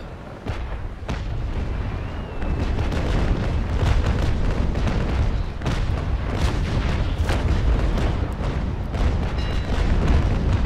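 Ship cannons fire in the naval video game Naval Action in a loud, rolling series of deep booms that blend into a continuous rumble, with a brief exclamation from a voice near the start.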